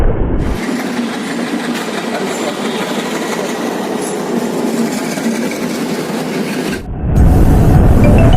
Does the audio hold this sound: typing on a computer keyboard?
no